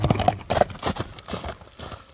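A horse's hooves clatter in an uneven, fairly close clip-clop rhythm on a run, loudest at the start and fading slightly as it moves away, with no speech over it.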